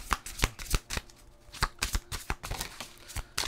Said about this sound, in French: On va aller chercher maintenant une carte conseil.